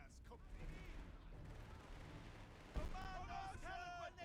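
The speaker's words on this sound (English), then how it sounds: "Let's call in a Stuka airstrike and finish this off." Explosions and gunfire from a Stuka airstrike in the Company of Heroes 3 war game, with a sharp blast near the end over a steady rumble of battle, while voices talk over the combat.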